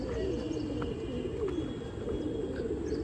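Pigeons coo on a rooftop in Amritsar, their soft, low, rolling calls repeating close by against a steady background hum.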